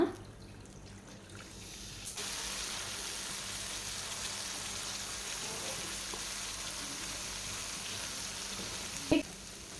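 Leftover masala water poured into a pan for Dover sole fish masala fry, bursting into a loud, steady sizzle and frying crackle that continues for several seconds, with a brief clatter near the end.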